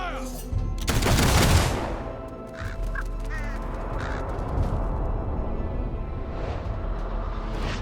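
A sharp, loud firing-squad rifle volley from Fable 3 bursts out early, then fades into a lingering rumble with scattered fainter sounds and a few distant, honk-like calls.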